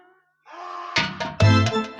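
During a village Ramlila stage performance in Sikri, Sandila, Hardoi, a voice imitates a buffalo's call with a drawn-out nasal moan followed by several louder, bleating bursts, close and clear.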